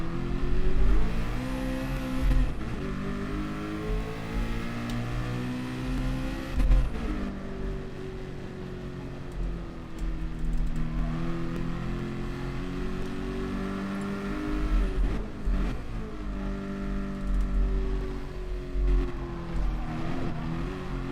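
Group C race cars in a racing video game, engines droning and revving continuously at high pitch with shifts and pitch sweeps, several cars close together, loud and steady with no talking.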